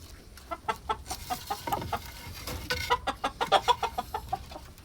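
Sasso chickens in their coop, a close, lively series of short clucks and chattering calls in quick irregular bursts, several birds overlapping, loudest toward the end, over a low background hum.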